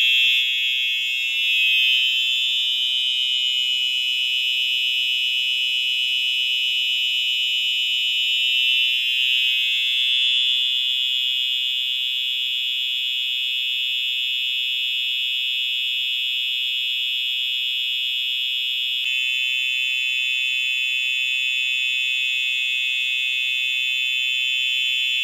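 A fire alarm set off by pulling a Simplex dual action pull station sounds in a loud, steady, continuous electronic tone that fills the whole stretch without a break or voices.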